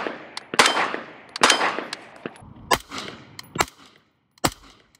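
Five sharp gunshots fired through a low back pressure suppressor, loud muffled cracks spaced unevenly about a second apart, with brief ringing tails and no voices.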